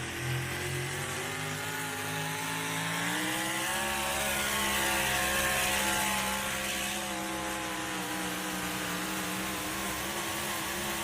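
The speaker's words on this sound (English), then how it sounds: "hitting the rev limiter right there at the end" Thumper, Murray Thornton's outlaw drag racing car, makes a loud, sustained engine roar whose pitch climbs through the run, then holds flat and buzzing against the rev limiter near the end.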